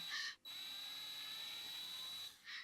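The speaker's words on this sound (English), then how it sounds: "you may need a little bit more torque in your drill" Power drill whining at a constant high pitch while pulling an offset bridge thimble out of a guitar body, a single sustained run between two short bursts of buzzing at either end.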